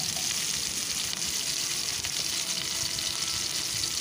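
Chopped onions fry in a generous amount of very hot oil, a dense, loud, continuous sizzle that holds steady without pause.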